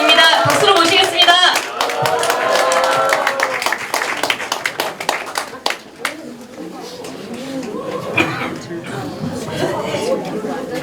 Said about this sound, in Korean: 노래팀 설마입니다. 박수로 모시겠습니다.